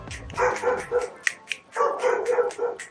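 Several dogs bark in quick, uneven bursts at mid distance, sharp yips and woofs that overlap and pause briefly before resuming, with no speech over them.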